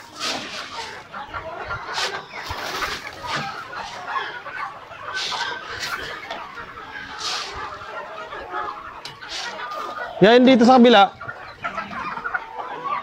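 Chickens cluck on a farm in scattered bursts, with a louder, close squawk near the end, while people speak briefly in the background.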